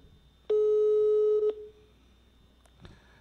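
A single long telephone ring tone on a radio call-in line sounds loudly for about a second, then cuts off, followed by faint clicks and line noise.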